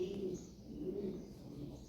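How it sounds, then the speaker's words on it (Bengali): A pair of large Lahori pigeons cooing close by, low throaty rolling calls repeating over a quiet background. "এখানে এক পেয়ার কবুতর আছে যেমন ফিমেল তেমন মেল"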